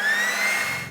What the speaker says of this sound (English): drying your car with a leaf blower is way less obnoxious when there's still light out